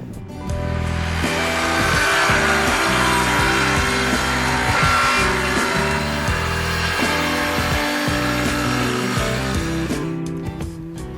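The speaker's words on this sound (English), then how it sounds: "cut them clean with our worm saw" A worm drive circular saw cuts pallet wood bench top pieces against a clamped straight edge, a loud continuous motor whine under load holding steady for the whole stretch with no voices.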